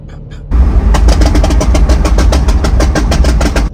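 Tuned car's exhaust set up for pops and bangs, a loud close engine drone that kicks in suddenly, overlaid with a rapid, steady string of crackling pops from the exhaust.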